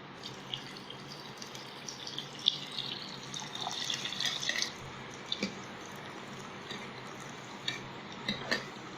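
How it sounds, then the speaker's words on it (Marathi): Poha fingers frying in hot oil produce a faint, continuous bubbling sizzle with scattered small pops and crackles, plus a few light clinks of a utensil. "तर आपण आता ह्याच्यात एक एक करून हे तळून घेऊया."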